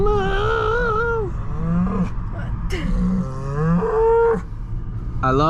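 A cow moos by the roadside in Teton National Park, several long, wavering, loud lowing calls heard close from a passing car, with faint road and engine noise beneath.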